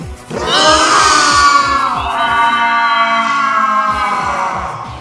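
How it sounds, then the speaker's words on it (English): A video game character lets out distorted, demonic screaming in rage. The loud, sustained, warped howl runs continuously over a steady, pulsing low throb. "Ochoa's voice is also heard screaming in rage while his voice distorts"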